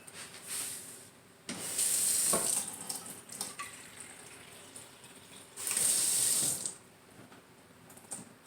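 Water pours in two short, hissing bursts, 1/3 cup for butter from powdered milk, quiet and close, with faint clinks and handling sounds between them.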